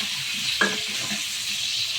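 Pointed gourd (potol) pieces fry in oil with salt and turmeric, a soft continuous sizzle with one quick clatter of a spatula stirring in the pan, no voices.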